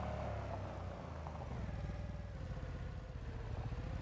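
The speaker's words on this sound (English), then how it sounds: "This is the new tractor." A tractor engine in the game Farming Simulator 25 runs with a steady low rumble and fast, even throb, fairly faint and constant throughout, with no talk.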